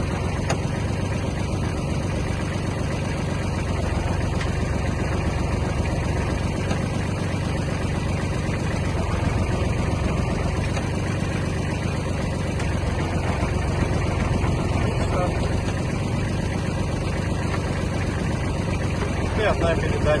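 A Japanese Kubota KL-25 mini tractor with a cab sits idling, its engine a steady, even rumble close by while someone talks over it.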